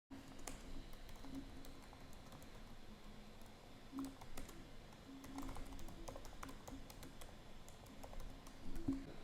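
Soft, rapid key taps from typing code on a computer keyboard continue in an uneven patter, faint and close, with a low background hum and no speech.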